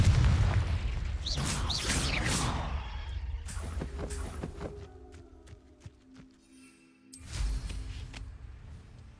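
A Confringo spell blasts off in Hogwarts Legacy, a deep booming burst that rolls out early over a dense wash of game effects, followed by scattered clicks and thuds and a second thump near the end.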